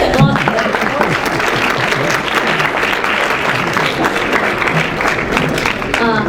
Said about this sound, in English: Can we just have a hand of applause?